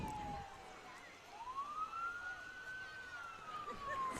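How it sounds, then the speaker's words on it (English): Emergency vehicle sirens leading the 2021 Toronto Christmas Parade, a faint wailing tone sweeping up and holding, distant and low in level against crowd murmur. "I'm hearing the sirens"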